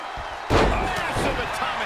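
A heavy atomic-drop slam in WWE 2K23 wrestling crashes in as one loud impact, then rings out amid crowd noise and a commentator's voice.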